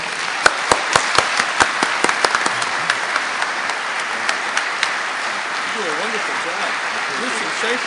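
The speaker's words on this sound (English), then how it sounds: "Let's please usher the Ambassador and Mr. Kofi Annan down with a round of applause." An audience at an Alliance for a Green Revolution event applauds, opening with a few loud, distinct claps that swell into a dense, sustained wash of clapping, with a voice speaking over it near the end.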